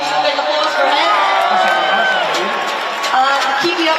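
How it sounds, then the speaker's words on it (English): A large crowd at a World Cup fan watch-along in Glasgow's Hydro arena cheers and applauds a keepy-up competition winner, a dense roar with whoops and clapping that carries straight through. "So big applause for him."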